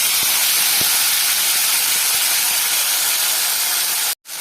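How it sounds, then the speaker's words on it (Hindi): Chopped tomatoes hit a hot pan and sizzle with a loud, steady, broad hiss that holds evenly, then cuts off abruptly near the end. "एबे मु एथिरे कटा होइथिबा टमाटो गुडी को दे देबी।"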